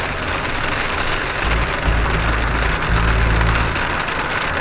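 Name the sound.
heavy rain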